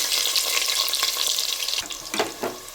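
Chopped onions go into hot oil in a pressure cooker for a Telangana-style mutton curry, giving a steady close sizzle and hiss with a few clatters near the end.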